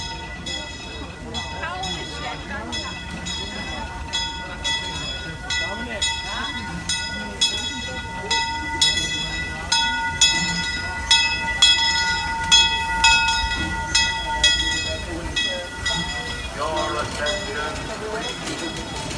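Disneyland Railroad steam locomotive No. 5, Ward Kimball, pulls into the New Orleans Square station at Disneyland, California, with rhythmic chuffing and clanking wheels growing steadily louder, a bell ringing over it, and people talking nearby.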